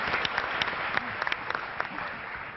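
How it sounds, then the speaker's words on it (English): An audience at a startup pitch competition claps together in a dense, steady round of applause, fairly close and even throughout. "a round of applause for StyleSeat"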